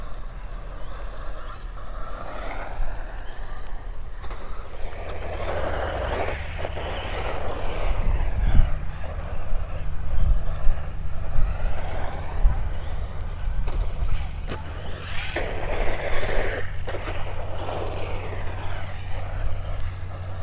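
A Tamiya Egress RC car whines around an outdoor track, its electric motor rising and falling as it passes near and far, with someone talking over it and occasional thumps from landings.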